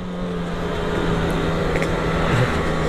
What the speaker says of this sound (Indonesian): Suara dari karbunya keras tuh.